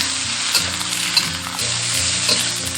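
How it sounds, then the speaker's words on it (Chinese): Kohlrabi stir-fried in a wok, sizzling loudly and steadily with a few scraping stirs of the spatula, close and alone without any voices. "全部炒香过后，下入撇篮，翻炒均匀"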